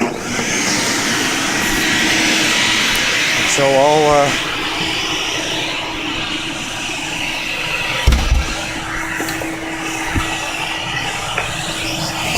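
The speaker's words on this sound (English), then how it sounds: "it's a 30-plus-year-old vacuum cleaner, and it still just runs like a top" A vacuum cleaner more than 30 years old runs steadily with a loud, continuous whine and roar, while a voice briefly speaks over it and a few knocks sound near the end.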